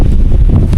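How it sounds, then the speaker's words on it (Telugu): Wind gusting under trees at a remote countryside campsite, a loud, close, low rumbling buffet against the microphone with no voices. "గాలి ఆగట్లేదు,"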